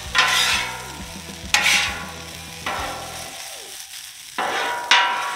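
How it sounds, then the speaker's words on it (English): Frozen hash browns sizzle in canola oil in a pan while a spatula scrapes and flips them, with several sharp clatters over the steady frying hiss, close and loud. "Flip the hash browns."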